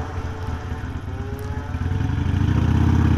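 A small scooter engine carrying two riders hums and putters nearby, its pitch and volume gradually rising as the ride picks up speed.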